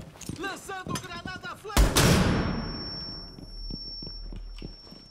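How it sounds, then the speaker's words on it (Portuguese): A grenade detonates in Rainbow Six Siege with a sudden loud boom whose debris rumble fades over a few seconds into a lingering high ringing tone, preceded by quick gunfire-like pops and game sounds. "Lançando o granada"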